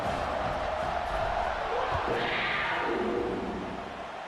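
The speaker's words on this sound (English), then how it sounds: "They're set to kick it off, and this crowd now ready to get behind them." A stadium crowd roars at a football kickoff, a broad steady wash of cheering that swells in the middle and then eases slightly toward the end.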